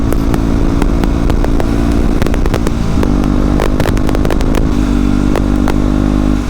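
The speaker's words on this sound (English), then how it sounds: "the exhaust on a 125, a loud exhaust" A loud 125cc motorcycle engine with an aftermarket loud exhaust rumbles and roars continuously up close, its exhaust crackling and popping in sharp bursts throughout.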